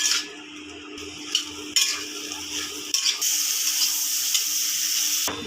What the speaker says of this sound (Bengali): এখন পটলগুলি ভেজে নিচ্ছি